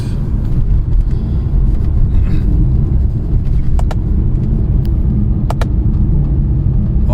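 Car engine in Sport Plus mode holding a steady, loud low rumble throughout, with a couple of brief sharp upper ticks or pops on downshifts, no talking.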